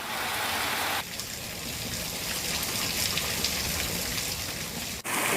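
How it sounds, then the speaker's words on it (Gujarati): Heavy rain driven by wind pours down near Idar and Vijaynagar in Sabarkantha, a loud, dense roar of water that drops briefly after a second and again near the end. "સાબરકાંઠાના ઈડર અને વિજયનગર પાસે પવન સાથે ધોધમાર વરસાદ પડ્યો છે"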